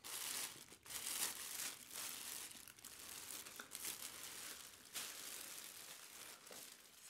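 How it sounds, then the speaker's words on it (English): A hat is lifted out of clear plastic bag packaging, giving close, soft crinkling and rustling that goes on throughout with small bursts. "let's go ahead and remove the hat from its clear plastic bag packaging."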